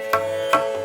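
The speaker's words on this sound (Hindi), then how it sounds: "ये तबले की ध्वनि है।" Two sharp tabla strokes about 0.4 seconds apart, with a faint third, from a teentaal pattern, ringing over a steady droning tone.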